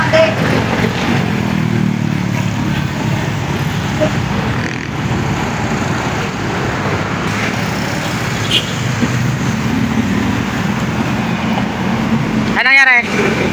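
A Yamaha Aerox v1 scooter with an error code 12 fault runs during a test drive, giving a loud, steady engine drone mixed with road and wind noise that continues without a break.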